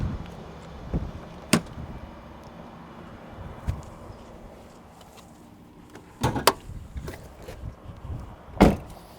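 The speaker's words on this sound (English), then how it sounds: "Let me open the hood." Hood of a Chevrolet Cavalier with a damaged front end from a deer strike being opened: a few sharp metallic clunks and latch knocks, spaced apart, near and fairly loud over a quiet room.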